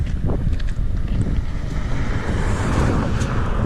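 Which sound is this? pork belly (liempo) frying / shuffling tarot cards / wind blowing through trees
wind blowing through trees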